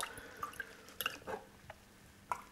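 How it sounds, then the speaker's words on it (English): Water draining from a repotted orchid's pot, a few faint, close, irregular drips and small trickles in a quiet room, with no talk. "First, the water needs to drain out."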